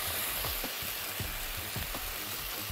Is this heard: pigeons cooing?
no